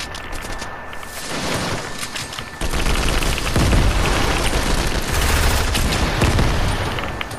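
Rapid automatic gunfire from a new weapon in the Fortnite video game, dense bursts of fast shots with booming impacts, loud and continuous through most of the stretch, rising sharply after a brief lull.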